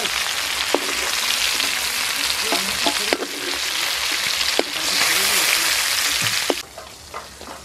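Pieces of swamp eel fry in hot oil, giving a steady broadband sizzle with a few sharp clicks and bumps, and the sizzle drops away near the end. Close-up kitchen sound with no talk.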